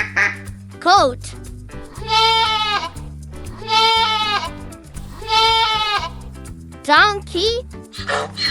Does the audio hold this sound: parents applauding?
no